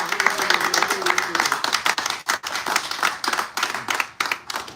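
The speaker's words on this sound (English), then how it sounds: "I want to give a round of applause to all of our amazing speakers" Lively crowd clapping at an outdoor anti-colonial reparations rally in St. Louis, honoring the speakers; brisk, fairly close hand claps in uneven bursts, with a voice briefly audible over the clapping.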